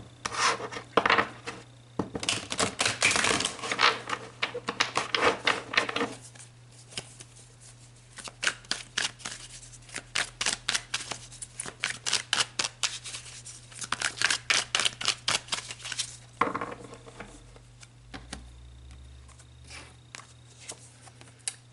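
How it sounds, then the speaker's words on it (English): Tarot cards are shuffled and drawn from the deck, with a run of dense, papery riffling and flicking bursts close by, broken by short pauses and soft slaps as cards come out, under a steady low hum. "let's pull some more cards."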